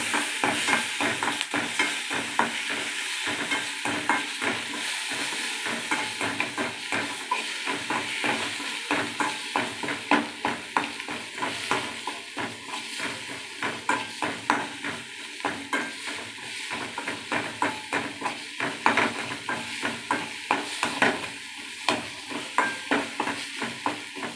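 Ginger, coriander and green chillies sauté in a pan with a constant sizzle under rapid, rhythmic spatula scrapes and taps that continue throughout, close and fairly loud, with no talking.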